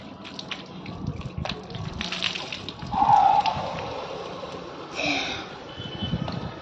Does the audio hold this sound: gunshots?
no